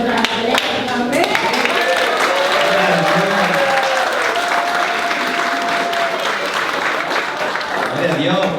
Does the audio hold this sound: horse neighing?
no